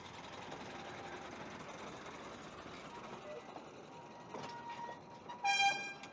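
The railway locomotive Brunhilde departs, a faint, distant low rumble building gradually, with a short, bright whistle toot near the end.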